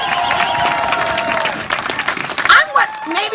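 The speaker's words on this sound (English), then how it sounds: "John Lewis, can we give a round of applause for John Lewis today?" A crowd at a women's vigil applauds for John Lewis, a rumbling mass of clapping mixed with scattered voices and cheers that grows more uneven toward the end.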